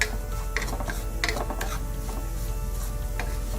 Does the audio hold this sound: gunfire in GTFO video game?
no